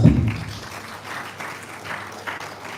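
A conference audience at a School of Environmental Technology lecture gives a brief, moderate round of applause from a distance, fading into a soft crowd murmur.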